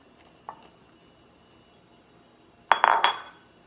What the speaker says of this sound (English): So then you're just gonna throw these scallops in here.